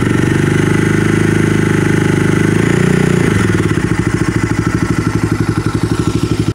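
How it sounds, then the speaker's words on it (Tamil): Bajaj Dominar 250 motorcycle exhaust heard up close, a loud steady burble that swells into a brief rev, then settles back into a chugging idle with a rapid, even pulse until it cuts off. "இந்த வண்டியோட எக்ஸாஸ்ட் சவுண்ட் எந்த அளவுக்கு இருந்து பார்க்கலாம்."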